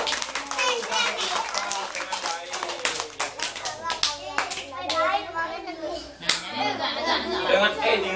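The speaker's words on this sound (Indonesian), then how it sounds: "tepuk tangan untuk" Children's voices chatter and shout over quick, sharp hand claps scattered through the scene, with playful noise and movement close by.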